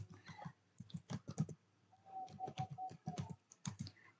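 Computer keyboard typing during a network VLAN configuration, heard as quick bursts of clicking keystrokes in uneven rhythm, fairly close and moderately quiet, with brief pauses between runs of keys.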